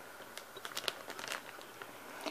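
A souvenir gift bag from Kolomna is handled and turned, giving quiet irregular crinkles and rustles in short bursts close to the microphone, with no talking.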